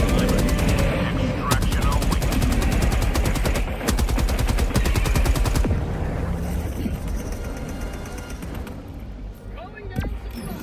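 Rapid automatic gunfire in the Helldivers 2 video game, dense bursts of shots for several seconds that then thin into scattered distant explosions and ambient battle noise, with voices talking over it.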